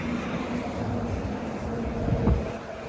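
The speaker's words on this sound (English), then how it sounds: "Here comes the traffic." Road traffic passing along Yonge Street in North York, Toronto, a steady broad roar of vehicles with one louder pass swelling near the end, heard from the sidewalk without talk.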